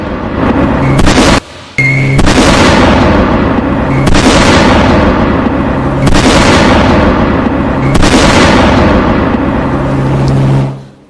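A terrorist bomb blast in Khyber Pakhtunkhwa, Pakistan: a series of loud, booming blasts in quick succession, each with a long rumbling decay, followed by a rushing roar that fades out at the end.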